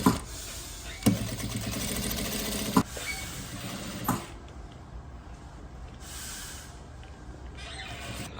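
A sewing machine stitching around the edge of an abaya runs in a steady, fairly quiet mechanical whir, broken by a few sharp clacks before the motor stops and the room falls to low background noise.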